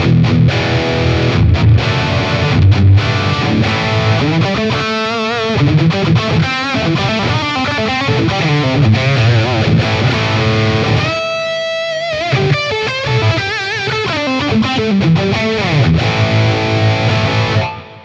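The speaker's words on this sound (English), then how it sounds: "if this setting is a little bit too light for you, all you got to do is click on the booster setting and choose one of the other overdrives" Electric guitar played through a Boss Katana amplifier with the distortion booster engaged, a loud, continuous run of driven chords and single notes with a brief sustained pause midway, no voices.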